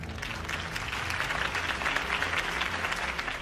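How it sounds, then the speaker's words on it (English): Crowd applause at a political campaign rally in the Telltale Batman video game, a dense continuous clapping that holds steady and loud throughout with no talk over it. "If only Mr. Wayne, my campaign's largest backer, could have heard that applause"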